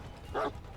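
A dog in the video game Dead by Daylight gives a single short bark, a brief yip-like burst heard faintly over quiet game ambience.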